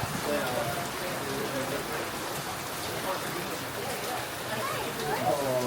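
Steady rain falls and patters on surfaces in Canggu, a constant moderate hiss with scattered drops, while someone talks softly over it.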